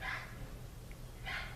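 A dog barking indoors at a distance, two short muffled barks about a second apart, faint under a quiet room background.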